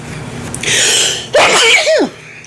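A single loud, close sneeze bursts out alone after a brief intake of breath, followed by a short trailing exhale.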